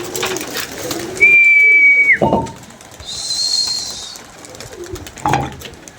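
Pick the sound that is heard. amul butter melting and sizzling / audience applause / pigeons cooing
pigeons cooing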